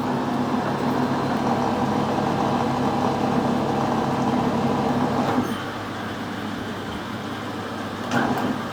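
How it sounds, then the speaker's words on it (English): A metal lathe running in reverse in a workshop, a steady mechanical hum and whir that drops slightly in level midway, with a faint knock near the end and no talking. "reverse the lathe"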